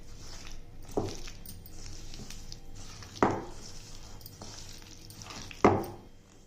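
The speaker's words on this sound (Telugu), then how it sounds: "ఇప్పుడు ఈ మిగిలిన నూనె దీంట్లో ముక్కల్లో కలిపేసుకోవాలి." Leftover oil being mixed into mango pieces for Andhra-style Pesara Avakaya pickle, giving three spaced, sharp clunks of a utensil against the bowl over a faint background.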